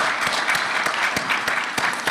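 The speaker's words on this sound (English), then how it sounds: "One round of applause for everyone." Audience members at a photonics workshop clap for the speakers, a thin, sparse round of applause with individual hand claps distinct and fairly close.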